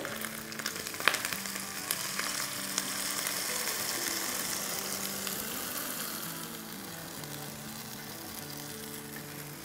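Liquid kadhi batter of gram flour poured into a hot pan on the stove, sizzling in a steady, continuous hiss, with a few clinks at the start, lasting throughout.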